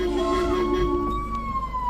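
A 108 ambulance sounds its siren on a forest road in Chinnar near Marayoor, Idukki. The wail is loud and close and rises and falls over a low engine rumble.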